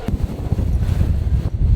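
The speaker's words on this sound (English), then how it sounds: "It's windy." Strong wind in Hong Kong buffets the microphone in loud, continuous low rumbling gusts, with no voices.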